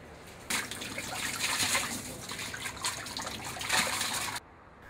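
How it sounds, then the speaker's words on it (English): Water from a hose splashes and gushes into the emptied waste tank of a Hako B115R floor scrubber, a continuous hissing rinse with a couple of stronger bursts that stops abruptly near the end. "Use a hose to clean the waste tank thoroughly."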